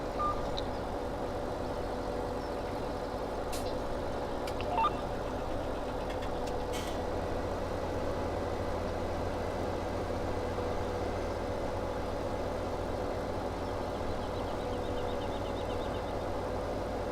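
Tractor engine in Farming Simulator 17 running steadily for the whole stretch, a constant low drone with a few faint clicks and no talking.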